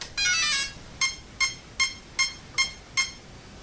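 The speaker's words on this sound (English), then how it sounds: "6 beeps, 6 cell." A long electronic startup tone from a Traxxas XO-1 RC car speed controller is followed by six short, evenly spaced beeps signalling a 6-cell battery, close and clear against a quiet background.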